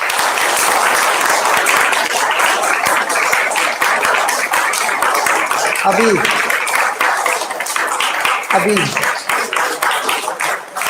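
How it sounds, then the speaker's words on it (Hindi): A church congregation clapping hands together loudly at a worship service, dense steady applause filling the whole stretch, with a couple of brief vocal sounds rising over the clapping. "चलो जीसस को जोर से मिलकर ताली बजाएंगे"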